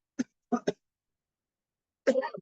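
Three short coughs in quick succession, then a longer, rougher cough after a pause, close and fairly loud.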